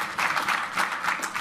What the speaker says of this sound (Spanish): Un aplauso de Alejandro y Giselle.